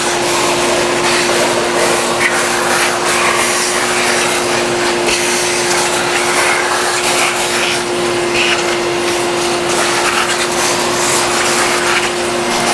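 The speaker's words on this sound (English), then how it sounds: "I'm going to go ahead and vacuum this up. We'll get the chips out of here." A vacuum cleaner sucks up wood chips aboard a boat, a loud, steady, unbroken roar with a constant tonal hum running the whole time and no voices.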